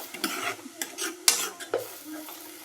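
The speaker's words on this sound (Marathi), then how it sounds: "मी ती ग्रेव्ही मस्तपैकी भाजून शिजून घेते दोन मिनटं" Thick gravy roasting and cooking down with garlic in oil in a pan, stirred with a utensil that scrapes and clinks against the metal now and then over a soft sizzle, close and moderately loud.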